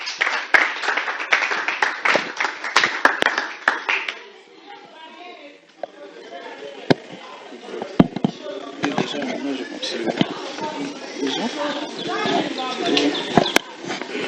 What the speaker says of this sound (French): On applaudit pour lui s'il vous plaît